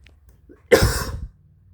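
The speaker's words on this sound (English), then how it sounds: "Sorry I actually coughed here" A single close, harsh cough burst lasting about half a second, with quiet surroundings before and after.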